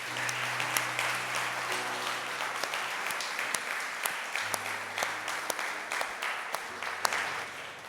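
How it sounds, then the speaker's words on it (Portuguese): A church congregation applauds during an evening worship service, a fairly soft, scattered patter of clapping with a few sharper individual claps, over a low sustained keyboard chord. "Pode aplaudir o Senhor"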